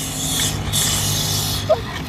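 Universal chain lube tool sprays chain lube onto a motorcycle chain in a steady hissing burst, close and loud, easing off briefly before resuming.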